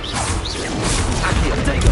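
A Confringo fire spell cast in the game Hogwarts Legacy bursts with a loud whooshing blast and crashing impact, dense and sustained for about two seconds, with a heavy thump near the end.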